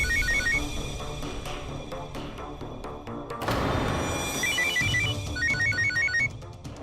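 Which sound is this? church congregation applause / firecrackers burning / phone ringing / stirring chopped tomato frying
phone ringing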